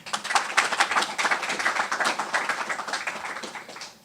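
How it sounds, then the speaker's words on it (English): An audience claps in a sustained round, dense overlapping hand claps holding steady for several seconds before easing off slightly at the end, with no talking. "it's worth clapping a second time"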